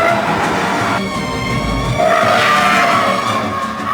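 A Subaru Impreza rally car drives past a crowd of rally spectators, its engine roaring steadily and loudly with a sustained skid and tyre scrub through the run, with no voices over it.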